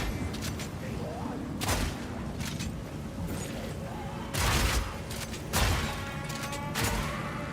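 Fragmentation bolts from a shotgun in Path of Exile fire in an uneven string of sharp blasts, several louder bursts standing out irregularly over a constant game background.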